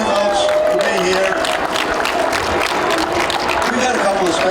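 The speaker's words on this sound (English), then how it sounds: "Let's give them a round of applause." An audience at an International GT race event at Daytona applauds in a sustained, dense burst of clapping, loud and close, with a voice talking over it.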